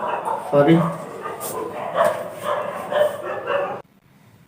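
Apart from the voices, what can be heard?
dogs barking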